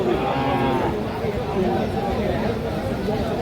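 At a busy cattle market selling bulls and calves, cattle give a low moo while people talk loudly over the steady crowd din.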